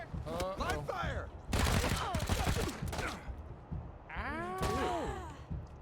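Gunfire in the co-op video game Wasteland 3 comes as a dense burst of shots in the middle, surrounded by character voice lines and a low thump.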